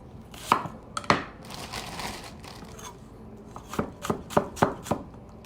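A knife chops onion on a cutting board for salsa, with a cluster of sharp, close strikes at the start and a quicker run of chops near the end.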